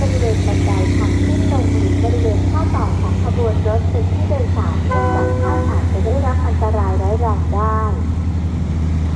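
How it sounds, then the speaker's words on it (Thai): Ordinary passenger train no. 262 stands at Ban Pong station in Thailand, its loud steady rumble and hum running throughout while a voice makes a station announcement over it. "ขณะนี้เป็นขบวนรถธรรมดาขบวนที่สองหกสอง ต้นทางจากสถานีสวนสนประดิพักสุดปลายทางสถานีกรุงเทพหัวลำโพงค่ะ"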